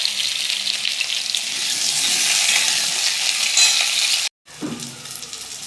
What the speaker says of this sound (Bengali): এটাকে নুন হলুদ দিয়ে ভেজে নেব